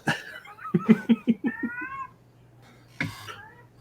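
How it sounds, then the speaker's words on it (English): A cat meows close by in a room during a casual live stream: a run of short, pulsing meows, then a pause and one more clear meow. "Damn cat over there."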